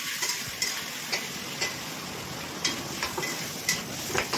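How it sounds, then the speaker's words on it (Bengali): Tomato, salt, turmeric, cumin and chilli powder fry with a splash of water in a pan, a soft steady sizzle broken by regular light scrapes and taps of a stirring spoon, close and fairly quiet. "হালকা জল দিয়ে ভেজে নিলাম। খুব ভালো করে কষিয়ে নিতে হবে।"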